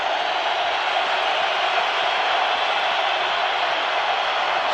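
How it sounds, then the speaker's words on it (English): Stadium crowd at an NFL game, 49ers at the Green Bay Packers in Green Bay in late fourth quarter, roars in a loud, steady wash of massed voices that holds without break. "Crowd in full throat."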